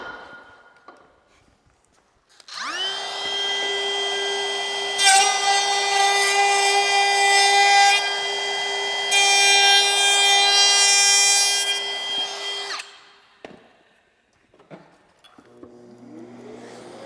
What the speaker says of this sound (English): you cannot go wrong with a Festool ETS EC 155